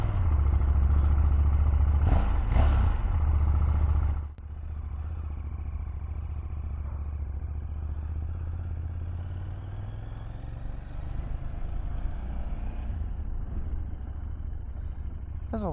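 A 2024 KTM 790 Duke motorcycle rides on the road, its engine droning steadily with a louder rev and clattering bursts early on, then settling into a lower, continuous hum with wind rush.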